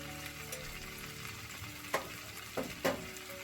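Garlic and ginger paste hits a hot pan for paneer bhurji, giving a quiet, even sizzle broken by a few sharp clicks and clatters of a spoon against the pan.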